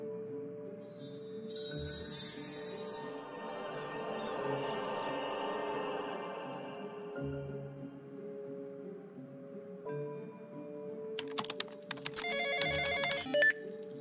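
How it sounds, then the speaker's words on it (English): Phone notification chime alerting to a salary payment, bright electronic ringtone tones sounding alone over a quiet background, with a second burst of beeping tones near the end. "I have received a notification of my salary payment."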